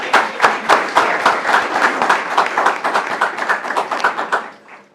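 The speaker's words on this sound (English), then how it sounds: "Let's give them one last round of applause as they leave the room" An audience at a school board meeting claps steadily as students leave the room, a dense, lively round of applause that fades out near the end.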